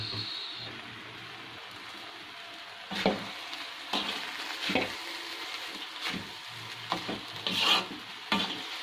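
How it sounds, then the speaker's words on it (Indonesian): Chopped Balinese spice paste (bumbu rajang) fries in a pan under a steady low sizzle, broken by repeated scraping stirs at irregular intervals, close and clear with no voices. "Menggoreng bumbu rajang itu tidak boleh didiamkan, harus terus diaduk."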